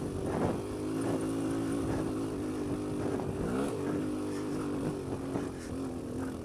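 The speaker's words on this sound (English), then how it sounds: "I'm on the KLX140L. I'm gonna go do some hill climbing for you today." A Kawasaki KLX140L dirt bike engine labours up a hill in second gear, a steady close drone with shifting rev swells and a few throttle blips, continuous throughout with no talk.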